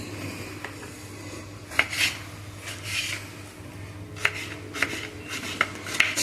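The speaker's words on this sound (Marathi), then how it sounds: "बारीक कट करून घ्यायचे अशा प्रकारे गिलके सर्व कट करून घ्यायचे बारीक पीस मध्ये" Knife chopping ridge gourd into small pieces on a board, a handful of sharp, separate taps spread irregularly over a steady low background hum, close and fairly quiet.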